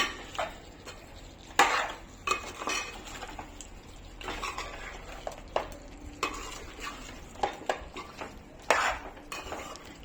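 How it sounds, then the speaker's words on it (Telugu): A spoon scrapes and clinks against a pan while chicken fry is stirred, giving irregular metallic knocks and scrapes over a faint sizzle, close and moderately quiet. "మంచిగా కలిపేసుకుందాం mix mix mix all mix"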